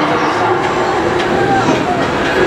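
An amusement park train at Kings Island rolls in with a loud, continuous rumble and faint rail clatter, with muffled crowd voices around it.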